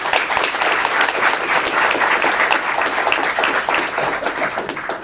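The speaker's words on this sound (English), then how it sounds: "That is some misplaced applause." A crowd at a university literary reading breaks into loud, continuous applause, a thick, even roar of many hands that holds for five seconds before tapering slightly at the close.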